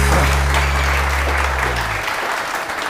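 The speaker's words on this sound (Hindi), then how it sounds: "उफैरा के लिए बहुत सारी तालियां।" A studio audience on a television morning show bursts into loud, sustained applause, dense and steady, with a low hum underneath early on that fades after about two seconds.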